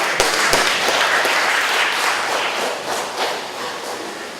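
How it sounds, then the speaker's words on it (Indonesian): Audience applause at a public lecture in Indonesia: a loud, dense wash of clapping that holds steady for several seconds. "tepuk tangan."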